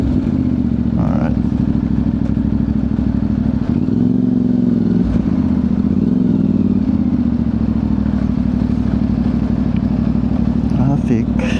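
Loud, steady engine rumble from motorcycles and cars in congested road traffic in hot weather, a continuous close drone with occasional revving swells and clatter, voices talking over it.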